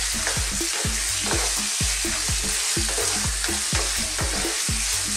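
Pork liver for adobo frying in a pan, a steady close hiss of sizzling oil under rapid, regular stirring clinks of a utensil, with no voices.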